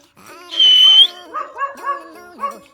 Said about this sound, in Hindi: भाई वो उधर ऊपर से भौंक रहा है छत के ऊपर से